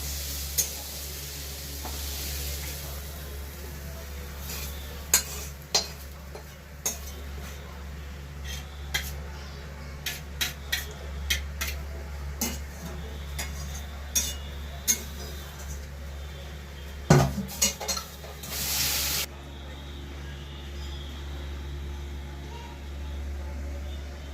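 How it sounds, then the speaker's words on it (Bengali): Red amaranth greens fry in a pan while being stirred, a soft low sizzle punctuated by irregular clinks and scrapes of a utensil against the pan, with a steady background hum throughout. "এবারে এটাকে আমি ভালো করে নাড়িয়ে নিয়ে"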